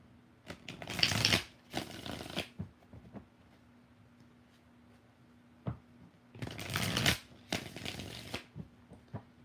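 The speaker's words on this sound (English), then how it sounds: "Two more shuffles." Tarot cards shuffled by hand in two pairs of brisk riffling bursts separated by a quiet pause, close and crisp over a faint steady hum, with no talking.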